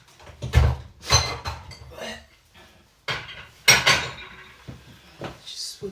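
Dirty dishes, pots and cutlery being loaded into a home dishwasher, with close clattering plates and clinking silverware in irregular bursts, plus faint rack and door knocks.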